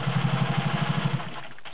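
Singer 500A Slant-O-Matic, an all-metal gear-driven sewing machine, stitching through seven layers of denim with a rapid, even mechanical thrum of pulses that stops abruptly, close and without talk.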